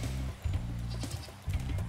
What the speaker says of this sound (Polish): To jest owca, Boże, owca.